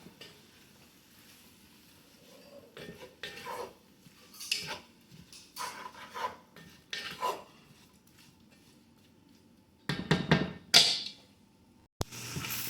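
Peppers and onions being stirred into chili in a pan, a series of scraping, sizzling stirs in short bursts with quiet gaps, ending in a louder clatter of utensil against pan.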